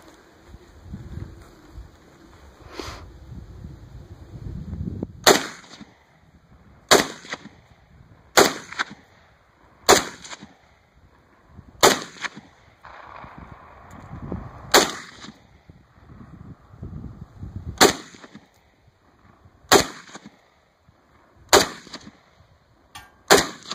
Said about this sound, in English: Crusher's going to take a few rounds with this HK variant.